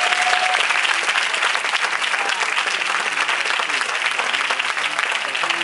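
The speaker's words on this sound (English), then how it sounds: "Can we give them a round of applause, please?" A dense, loud round of audience applause for panelists at a natural hair talk event, sustained and even throughout with no pauses.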